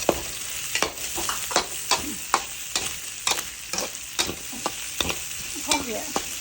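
Mushrooms and pork being stir-fried in a pan, with a steady sizzle broken by repeated sharp scrapes and clacks of a spatula stirring at a fairly regular pace, close up and with no talking.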